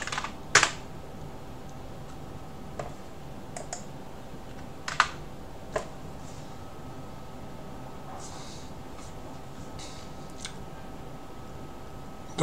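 Computer keyboard keys tapped while a command is typed into a terminal, with a few sharp clicks scattered across a quiet background and long pauses between them.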